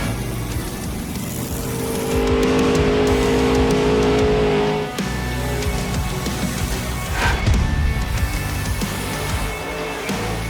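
Monster Jam truck spinning donuts in an arena, a loud sustained engine roar with revving swells and grinding tire noise lasting throughout, close and continuous.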